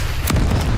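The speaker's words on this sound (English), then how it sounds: "Enemy flashbang." A flashbang grenade going off in a first-person shooter game, one sharp loud bang with a brief low rumble trailing after it, heard alone.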